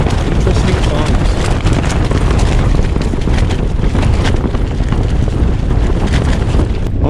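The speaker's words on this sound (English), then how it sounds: "I don't know if the wind's going to die down by the time sunrise comes up." Strong, steady wind gusts buffet the microphone at a campsite, making a loud, continuous roaring rumble with no letup for the whole stretch.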